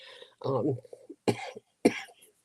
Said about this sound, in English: Still a little remnant of that cough.